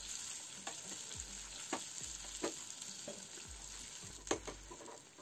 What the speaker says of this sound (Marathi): थोडा कढीपत्ता आणि बारीक चिरलेला कांदा टाकून याला ट्रान्सपरंट होईपर्यंत